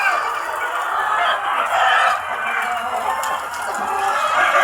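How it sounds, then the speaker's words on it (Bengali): Hens cluck and squawk in a poultry coop where they are laying eggs, a steady busy chorus of nearby birds with a rooster-like call mixed in, with no one talking. "এই যে দেখেন এই মুরগি ঠোকর দেওয়ার জন্য আসতেছে।"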